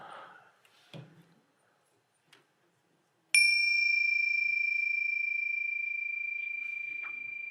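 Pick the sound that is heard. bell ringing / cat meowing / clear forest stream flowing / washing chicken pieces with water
bell ringing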